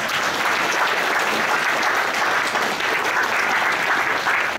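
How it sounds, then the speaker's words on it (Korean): Sustained applause from the crowd at an opening ceremony for a new farm-supplies store at an agricultural cooperative's head office in Yongmun, Yangpyeong, steady and dense throughout with no talk over it. "큰 박수 한번 부탁드리겠습니다"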